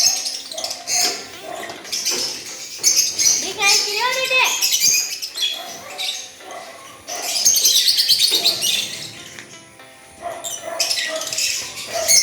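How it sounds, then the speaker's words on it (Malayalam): African lovebirds chirp in an aviary section, with bursts of rapid high tweets and squeaky calls from several birds nearby, rising and falling in busy clusters with brief lulls. "ഇതാണ് ഞങ്ങളുടെ ആഫ്രിക്കൻ ലോ ബേഡ്സിൻ്റെ സെക്ഷൻ"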